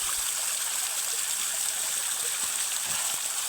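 A cold mountain stream flows steadily nearby, a constant rushing, bubbling hiss of water with no voices over it.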